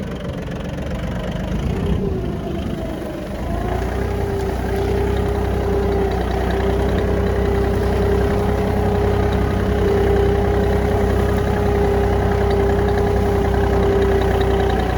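An Iseki TA 235 compact tractor engine runs steadily in low gear before ploughing virgin ground, a loud continuous diesel drone with a steady pitch that rises slightly after the first few seconds.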